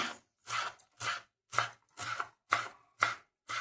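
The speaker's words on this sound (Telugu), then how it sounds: "కొత్తిమీర కూడా కట్ చేసుకుందాం అట్లనే" Close knife chops on a cutting board, eight steady strokes in an even rhythm with brief gaps, chopping coriander leaves.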